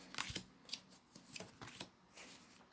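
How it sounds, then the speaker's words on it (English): Tarot cards are shuffled by hand in a series of quick, soft riffling bursts, close and fairly quiet with short pauses between them. "I promise I am shuffling properly behind here."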